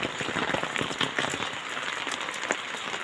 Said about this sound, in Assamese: বৰষুণ দি আছে ৰাতিপুৱা।